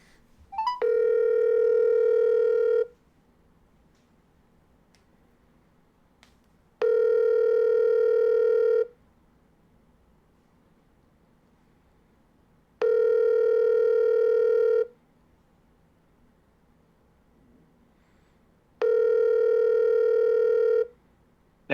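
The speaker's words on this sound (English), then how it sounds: "Marcel's getting a fucking phone call." Outgoing call ringback tone repeating four times, each steady two-second tone separated by about four seconds of quiet, clear and close with no one talking.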